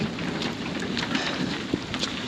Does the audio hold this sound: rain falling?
yes